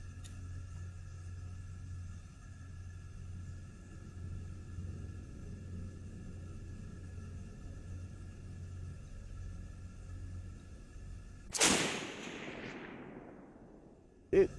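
A rifle fires a single loud shot while being zeroed at 36 yards outdoors, a sharp blast with a ringing decay after a long low rumble, then a brief sharp knock.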